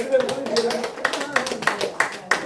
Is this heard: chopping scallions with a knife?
no